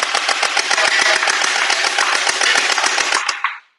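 Shell Throw MP5K gel ball blaster firing full-auto, a rapid steady burst of sharp clicking shots over a loud whirring motor whine, cutting off and spinning down at the end.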